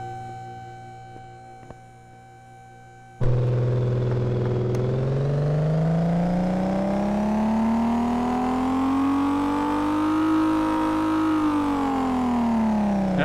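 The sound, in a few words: car engine revving on a dyno in Car Mechanic 2015 video game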